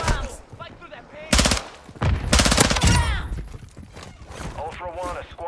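Heavy bursts of automatic gunfire from a Call of Duty DMZ firefight crackle loud and close in two long volleys, mixed with radio-style voice chatter.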